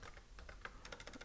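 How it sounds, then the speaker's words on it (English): Quiet, rapid keystrokes on a computer keyboard, a quick irregular patter of light clicks heard alone at close range. "typing"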